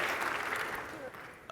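Conference audience applauding at a game development talk, a brief burst of clapping heard at moderate distance, fairly quiet and fading slightly toward the end.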